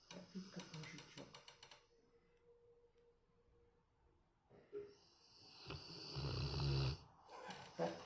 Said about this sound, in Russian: Ну ты как старый дед храпишь.